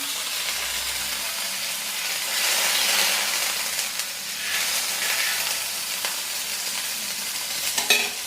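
A little butter sizzles on a hot griddle, a steady close hiss that swells and eases in waves, with a few faint scrapes and a sharper clink near the end.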